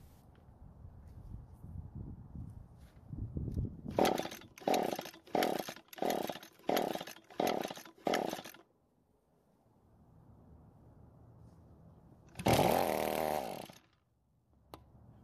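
An Echo gas edger with a loose muffler cover catches after several pulls. Loud rhythmic bursts come first, then a quiet lull, then a brief rough roar before it dies.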